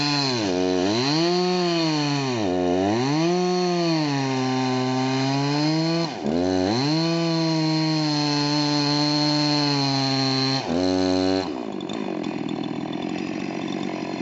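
A chainsaw cutting trees, its engine revving up and down in repeated rising and falling pulls, loud and close, then shifting to a rougher cutting sound at the end.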